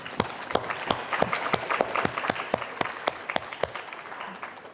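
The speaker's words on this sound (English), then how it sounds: "So we can give them a round of applause." Audience applause at a conference rises as a crowd of hands clapping, with distinct sharp claps standing out against the softer steady clapping, moderately close and fairly quiet overall.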